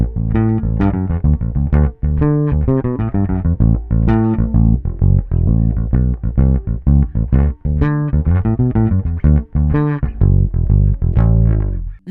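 A cheap secondhand electric bass, the Frankenbass, played alone as a busy run of plucked notes with a deep, full low end and steady loudness, close and dry.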